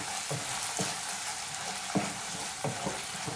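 Potato and cauliflower curry masala being stirred in a pan, a steady sizzle broken by several soft scraping strokes of the spoon at irregular intervals, close and fairly quiet with no talking.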